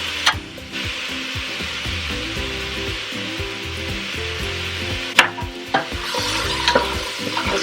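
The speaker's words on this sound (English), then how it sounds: "Now I'm going to add in some garlic." Garlic stirred into a soup pot with a wooden spoon, steady frying sizzle under repeated scraping and rubbing strokes, a few sharper knocks against the pot, close and fairly loud, no talking.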